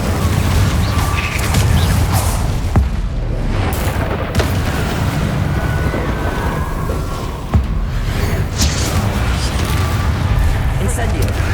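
Incendio fire spells and other spell blasts boom in Hogwarts Legacy as a dense, loud barrage of rumbling bursts and whooshes, with a few sharper impacts cutting through.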